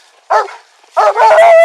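A police K9 dog barks loudly and close by: two sharp, forceful barks, the second drawn out into a strained, whining tail.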